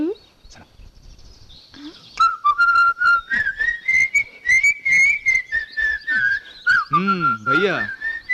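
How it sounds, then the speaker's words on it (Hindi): People whistling during a festive family arrival in a dubbed South Indian film scene, a loud, sustained melodic whistle that rises and falls with rapid warbling trills, repeated in pulses, with brief voices at the start. "ये सीटियाँ किस खुशी में बजाई जा रही है"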